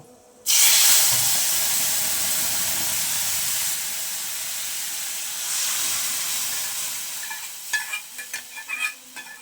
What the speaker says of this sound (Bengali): এবারে আমি ডালটা ছুঁকে নেব।